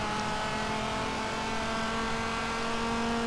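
A Dodge Viper GTS engine drones loudly under acceleration in the racing game Forza Motorsport 7, with a steady, unbroken tone and no talking.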